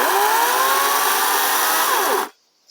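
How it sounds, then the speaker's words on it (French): A battery-powered electric chainsaw runs with a steady, high-pitched whine, its motor pitch sliding slightly as it spins, loud and close, then stopping suddenly. "c'est une CHN, une tronçonneuse électrique"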